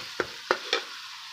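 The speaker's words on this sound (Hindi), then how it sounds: "अब इसको फ्राई करेंगे अच्छे तरीके से" Onion and tomato masala for a potato egg curry fries in a pan, a low steady sizzle broken by three sharp spoon scrapes while it is stirred.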